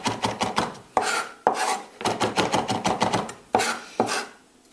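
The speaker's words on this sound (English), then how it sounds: "With the rosemary, all you're going to do is pull back on it, so you have all of those beautiful leaves there. And again, a nice fine chop." A knife finely chopping fresh rosemary leaves on a board: fast, loud, close rhythmic taps in quick bursts separated by brief pauses, alone without talk.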